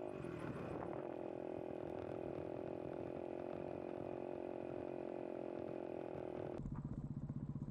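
A motorcycle riding off-road through the green hills of Jogimatti, Chitradurga holds a steady, continuous engine drone close by, then shifts abruptly to a rougher, lower putter near the end, with no talk.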